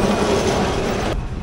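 A Kolkata tram rolls past in the street, a steady loud rumble of wheels on rail with a faint high squeal, cutting off abruptly near the end.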